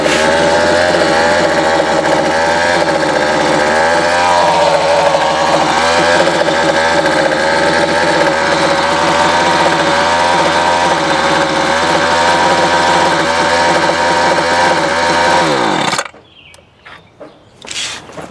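A weed eater's small two-stroke engine, just fitted with a repaired recoil spring, runs loud and steady for about sixteen seconds with a rough, uneven note, then cuts out abruptly, leaving faint clicks and handling noises.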